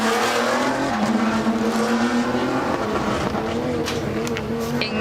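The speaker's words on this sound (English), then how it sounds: "Incredible sound off the start line and into the Forest Rally Stage." A rally car launches off the start line into the forest rally stage at the Festival of Speed, its engine loud and near, revving hard with rising pitch through gear changes and a brief tyre squeal.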